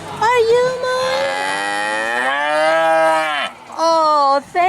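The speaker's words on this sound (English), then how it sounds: "Who's over here mooing?" A bull calf on a farm moos in long, loud, drawn-out calls, one sustained bellow followed by a shorter one, close by with no talk over it.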